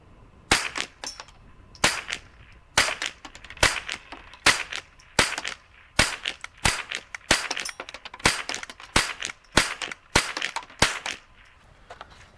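A Marlin Model 60 .22 rifle with a thick 19-inch barrel fires about twenty sharp, dry shots in quick succession, each a crisp crack with a short tail, close and alone.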